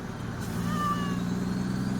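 A short, thin cat-like meow from a horse in Farming Simulator 17 rises over a steady low engine rumble, heard once near the middle.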